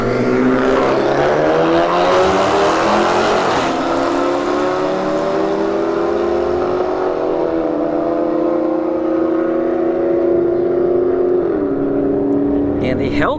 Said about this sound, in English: And the Hellcat goes 122 miles an hour.